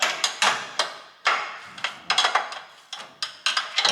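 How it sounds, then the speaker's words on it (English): A wrench works four motor mounting bolts on an ATV mower during a belt change, giving close, sharp metallic clicks and knocks in an irregular rhythm. "So now it's a case of just tightening down the motor again with all these 4 bolts."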